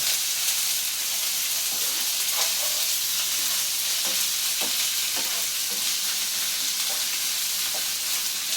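Onions frying in hot oil until brown, a constant loud sizzle and hiss close up with occasional scrapes of a spoon stirring through, no voices.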